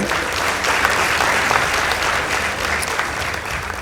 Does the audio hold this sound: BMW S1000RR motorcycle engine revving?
no